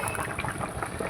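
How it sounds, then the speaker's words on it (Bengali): Bengali fish curry with radish and tengra fish bubbles in a pan, a close, steady burble of simmering liquid with soft pops, alone. "দেখুন কত সুন্দর ফুটছে"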